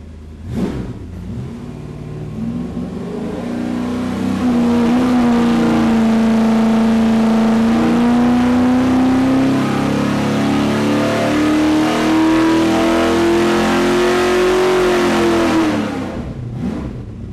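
A car engine on a dyno is held under load in a long, loud pull, the steady mid-pitched drone climbing slowly in pitch for over ten seconds before easing off.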